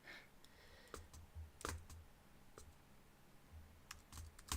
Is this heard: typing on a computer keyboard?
yes